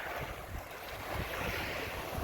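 Ocean surf where a sound meets the Atlantic off Topsail Island, North Carolina, a steady broadband wash of breaking waves mixed with gusty wind buffeting the microphone, continuous and fairly loud with no voices.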